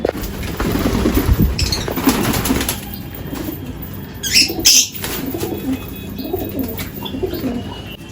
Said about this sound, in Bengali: মাদ্রাসি পায়রা রয়েছে দুটো, সেটা সেল করবো আমরা। তো পায়রা দুটো তোমাদেরকে দেখাচ্ছি আগে।